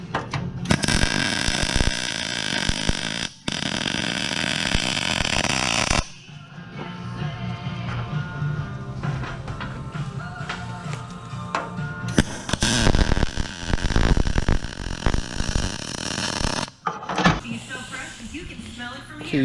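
Tack welding on a metal A/C surround: loud, harsh crackling bursts lasting several seconds each, separated by quieter stretches of lighter workshop noise.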